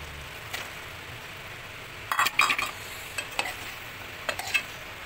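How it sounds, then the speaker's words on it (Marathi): Sandge dumplings are stirred into sizzling tomato gravy in a pan: a faint, steady sizzle runs underneath, broken by a few short clusters of scraping stir strokes and light clinks, close and quiet, with no talking. "आता आपण हे सांडगे टाकूया।"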